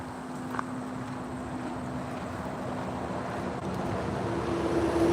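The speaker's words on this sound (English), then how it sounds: "This water is really powerful." Powerful rushing water, steady and loud, with a broad roar of wind-like noise that swells slightly toward the end; a faint tonal hum runs underneath and no one speaks.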